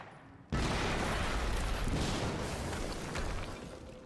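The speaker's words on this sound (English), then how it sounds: "HQ, we just heard an explosion near the harvesting corridor." A sudden loud explosion in the video game Quantum Break bursts in after a moment of quiet, followed by a sustained roaring, crackling rumble that slowly eases off over several seconds.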